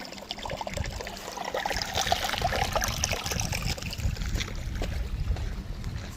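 Water from a front porch water feature trickles and splashes steadily over pebbles, close by. The wash is continuous and fairly loud, with no voices.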